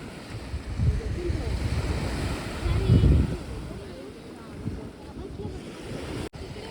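Ocean waves wash onto Redi beach, where small boats sit offshore, with gusty wind rumbling against the microphone and indistinct voices faintly mixed in.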